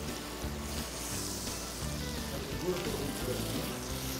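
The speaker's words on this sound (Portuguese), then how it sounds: "Vou selar um pouquinho a gordura." T-bone steak fat sears in a hot pan, a continuous crackling sizzle running steadily at close range for a few seconds, with a faint low hum beneath it.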